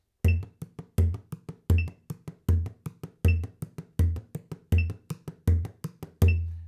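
A drum played along with a metronome strikes a steady run of punchy, close, loud hits, with quieter in-between strokes and a bright click riding on the main beats.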